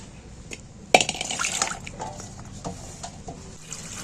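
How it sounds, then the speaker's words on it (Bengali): Sliced pointed gourd (potol) being washed in water, with a sharp splash followed by soft sloshing and dripping, close by and fairly quiet, no talk. "পটলগুলো ধুয়ে নিই।"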